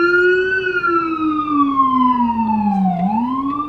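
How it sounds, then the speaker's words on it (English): An ambulance siren wails close by in traffic, its long tone sliding slowly down and then sweeping back up, loud and continuous with a faint rumble of vehicles beneath. "So y'all just not gonna move for this ambulance?"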